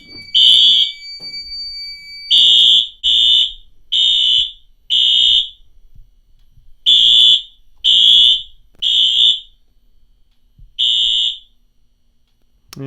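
Smoke detector alarm going off during a fire alarm system test, a loud, close, piercing electronic tone in about ten short bursts, arranged in groups of three with brief pauses between groups.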